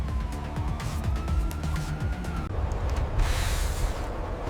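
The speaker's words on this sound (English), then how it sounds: "Police car races through night streets" A police car races through night streets with its siren on, a steady wail over rumbling engine and road noise that stays close and loud throughout.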